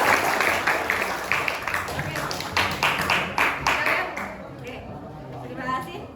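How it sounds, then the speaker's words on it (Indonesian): A school class claps for itself after finishing writing mini stories, a burst of scattered hand claps from many students in a classroom that thins out after a few seconds, with voices talking underneath. "Beri tepuk tangan untuk kalian."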